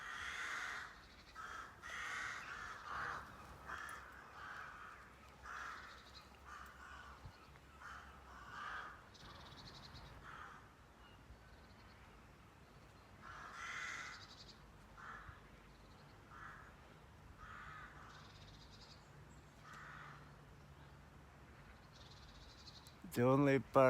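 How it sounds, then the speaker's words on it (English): Crows caw repeatedly from the trees, a flock calling in scattered bursts at moderate distance over quiet outdoor background, with faint insect-like chirping underneath. "And the murder of crows up there."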